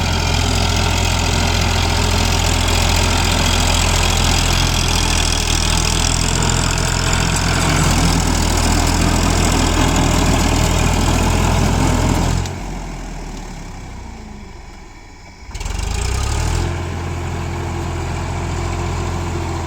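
An Eicher tractor engine chugs steadily at a loud, close idle on sandy soil, its low throb constant until it briefly drops away and then returns at a lower level.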